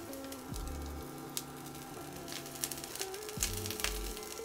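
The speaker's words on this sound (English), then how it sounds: "Once your oil is hot, you're going to toss in your onions to get them sauteing." Onions sauteing in hot oil in a skillet give a steady, close sizzling hiss, with faint tonal sounds running underneath and no speech.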